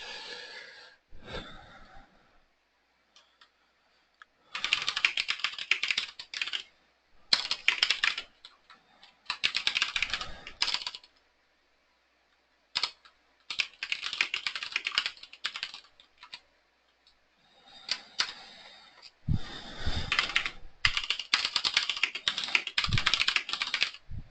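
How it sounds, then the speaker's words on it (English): Bursts of typing on a computer keyboard in a quiet room, clattering in uneven runs separated by short pauses, with faint breathing between the bursts. "I'm still typing up the sheet."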